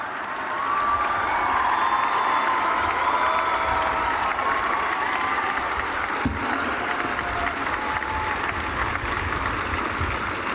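A large outdoor political rally crowd at Raffles Place applauding, a loud, dense and sustained wash of clapping with scattered cheers and whistles that holds steady for the full stretch.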